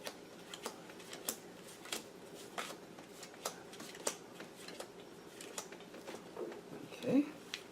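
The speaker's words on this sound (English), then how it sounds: "Would you remove any 14 cards from the deck, Pat?" A deck of playing cards being handled and counted out during a magic lecture, with soft repeated flicks and riffles spaced through the clip, a faint room hum underneath and a brief louder rustle near the end.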